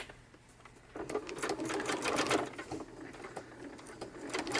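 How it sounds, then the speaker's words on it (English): Sewing machine running a straight stitch around tags and journal cards for a junk journal, with a rapid mechanical whir that starts after a quiet second, holds steady, then slows with short pauses, close up. "I'm just sewing all the way around."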